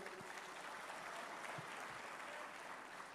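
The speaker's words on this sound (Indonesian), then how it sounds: "kita berikan aplaus" Crowd applause at a formal political gathering, a dense steady clapping wash that runs through the whole stretch at an even, moderately distant level.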